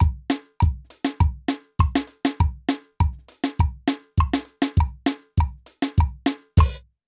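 A dry drum kit plays a brisk, repeating soca main beat: punchy kick and snare hits with a bright ringing accent, evenly spaced and close, no voices.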